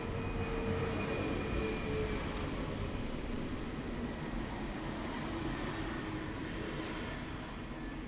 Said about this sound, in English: It's interesting that the planes are like moving overhead.